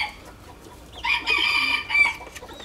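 A jungle fowl rooster, one of a trio of wild jungle fowl, crows once, loud and close, its drawn-out call rising and then trailing off over a quiet rural background.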